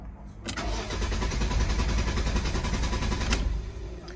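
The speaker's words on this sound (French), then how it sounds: "quand je vais démarrer, vous entendez? Il ne veut pas démarrer." A Citroën car's engine cranks repeatedly without catching, making a steady mechanical churning whir that runs close and loud for about three seconds before cutting off, with no talking.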